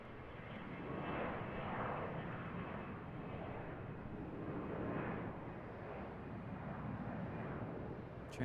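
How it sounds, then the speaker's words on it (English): An Airbus A320 jet departing Charlotte airport gives a steady, fairly faint engine roar that swells and eases slightly over several seconds, heard alone without voices. "Transition into the A320 departure."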